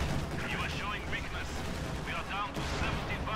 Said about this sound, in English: That airstrike just saved.